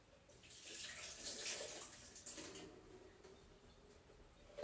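Soaking water is poured off softened cashew nuts that sat in hot water, a steady splashing gush into a sink, loudest early on and then tapering to a thin trickle, with a brief clunk at the very end.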